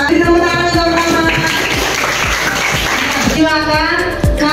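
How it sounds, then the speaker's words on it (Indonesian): Class of schoolchildren applauding a classmate: steady rapid clapping from a group close by, with voices and a sung or chanted tone running over it. "Tepuk tangan untuk Rahmat."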